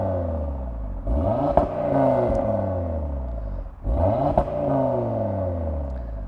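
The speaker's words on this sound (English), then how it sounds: "you're going to be wanting the sports exhaust, which sounds like this" An Audi TT RS coupe's optional sports exhaust revs twice, climbing sharply in pitch then falling back, with crackles and pops at each peak, close and loud, no speech.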